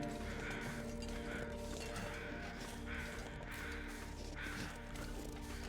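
Crows cawing in the video game The Long Dark, several harsh calls repeating at a steady pace over a constant low hum and wind-like ambience, with no one speaking.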